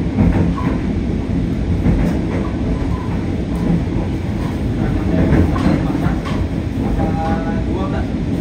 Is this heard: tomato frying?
no